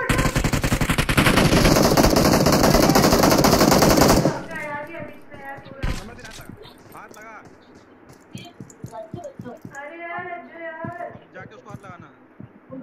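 Automatic gunfire from the battle royale game BGMI rattles in a dense, loud, continuous burst for about four seconds, then scattered single shots and short bursts continue under excited talking.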